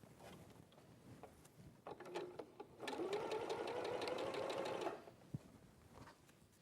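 A sewing machine stitches a quarter-inch seam along the wide end of a quilting piece, a steady whirring run of about two seconds, preceded by light handling clicks and followed by quiet room sound.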